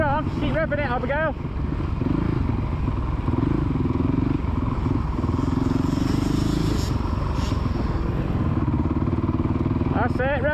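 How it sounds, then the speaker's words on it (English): A kid's motocross motorcycle on the Astley MX main track revs with a steady buzzing drone, rising and falling slightly, while an adult shouts encouragement over it. "rev it up now. Come on, rev it, keep it going, rev it up."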